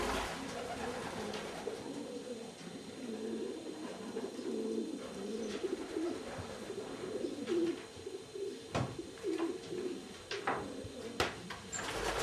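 Pigeons in a racing and breeding loft housing moulting stock hens coo softly and repeatedly, low murmuring calls overlapping in a quiet enclosed space, with occasional light clicks and flutters.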